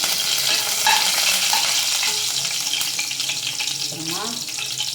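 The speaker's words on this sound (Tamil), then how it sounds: "அப்புறம் 2 ஏலக்காய், கிராம்பு, 4 கிராம்பு போட்டிருக்கேன். நல்லா வதக்கணும்." Cardamom, cloves and curry leaves sizzle and crackle in hot oil in a pan, with steady frying and the scrape of stirring close up. No one speaks.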